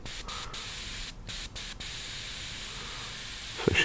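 An airbrush sprays Vallejo Game Air paint, making a steady close hiss broken by a few brief cut-offs as the trigger is released and pressed again.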